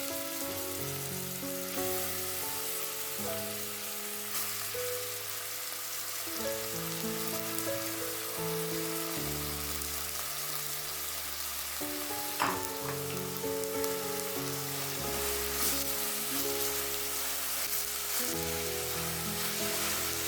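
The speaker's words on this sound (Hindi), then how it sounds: "तेल थोड़ा सा गरम होने के बाद इसमें डाल देंगे कटी हुई प्याज" Chopped onions sizzle and fry in hot oil in a pot, a steady, loud crackling hiss with no pauses and occasional brief clinks of stirring.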